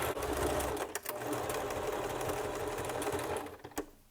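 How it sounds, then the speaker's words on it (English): A sewing machine stitches close to the edge of a fabric lining, back stitching as it goes, giving a steady, close mechanical whirr that runs nearly the whole time with a few short pauses and no talk. "you'll notice I am sewing as close as possible to the edge of this fabric"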